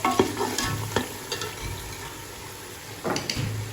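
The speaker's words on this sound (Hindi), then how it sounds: "दही को जो अच्छी तरह से मैंने मिक्स किया है" Yogurt being stirred into a sizzling chicken masala in a pan for chicken kaddu (chicken with pumpkin), with scraping spoon strokes over a steady frying hiss, and no talk.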